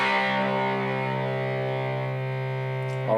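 A heavily distorted electric guitar chord from a rhythm part rings out long and steady, then a fresh strum cuts in at the very end.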